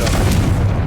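A Confringo blasting spell bursts in Hogwarts Legacy, a single deep close boom with a rumbling tail that fades within a second.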